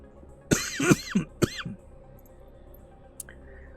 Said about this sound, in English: Excuse me, had a cough there.